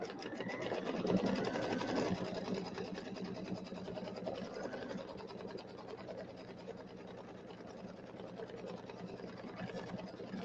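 An embroidery sewing machine stitches a placement line for a Kimberbell welcome pillow, a steady rapid mechanical whir with fast needle rhythm, slightly louder at the start and running continuously at moderate volume.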